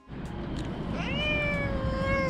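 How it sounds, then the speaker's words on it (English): A cat walked on a leash outdoors gives one drawn-out, clear meow that rises and then holds a steady tone, close and loud over a constant background rumble of traffic or wind. "there was a lady walking her cat on a leash"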